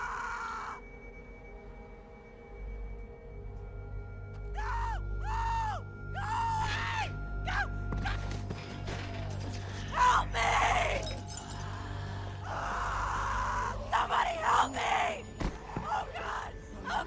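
A girl screaming in The Walking Dead video game, Episode 3: Long Road Ahead, with piercing, rising shrieks in several bursts mixed with shattering sounds and other voices, loud and close amid a tense, noisy scene.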